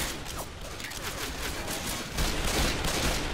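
Video game gunfire in Left 4 Dead 2, a close burst of rattling shots that grows louder toward the end, with no voices over it.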